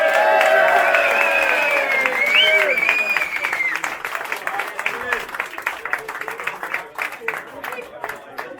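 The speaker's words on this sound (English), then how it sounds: "a round of applause for the Wacky Racers!" A large audience at a Two Ball Rally presentation bursts into applause, with cheering voices at the start, then sustained dense clapping that slowly thins out.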